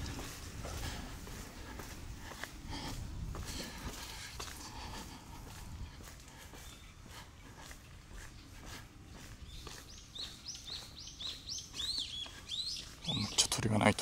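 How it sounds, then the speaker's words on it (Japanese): Birds chirp and tweet through a large park with a Japanese garden on a morning walk, scattered calls over footsteps and outdoor ambience, growing livelier near the end. "めっちゃ鳥がないと。"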